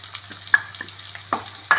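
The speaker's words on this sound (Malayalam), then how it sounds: "ഇത് നന്നായിട്ടൊന്ന് വഴറ്റി കൊടുക്കാം" Ginger, garlic and chopped onions sautéing in a pan for Kerala beef curry: a low steady sizzle broken by a few sharp scrapes and stirring clinks, close and fairly quiet, with no talking.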